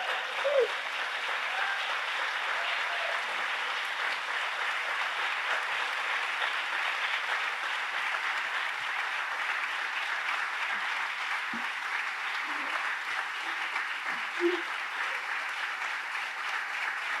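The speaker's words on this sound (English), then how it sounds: "Let's have applause for it." An audience at a VA health care plaque dedication ceremony applauds steadily for over fifteen seconds, a dense even wash of clapping with a few faint voices mixed in.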